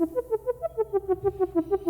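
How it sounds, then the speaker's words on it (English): A plain synthesizer saw-wave lead plays a quick run of short, evenly spaced notes, a simple buzzy tone on its own without effects. "It's just a saw wave with a lot of post-processing."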